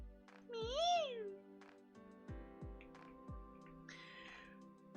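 Cartoonish cat meows from the cozy video game Urban Jungle, one long rising-falling meow followed by a couple of shorter ones, clear and up close over soft game music.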